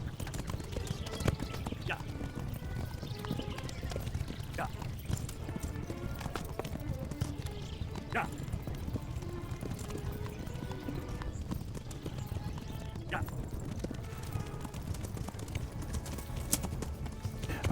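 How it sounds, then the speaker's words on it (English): Horse galloping in the video game Kingdom Come Deliverance, a quick rhythmic clip-clop of hooves running steadily throughout, moderately quiet, with occasional snorts and other game sounds layered over it. "Your horse is not going to outrun Pebbles."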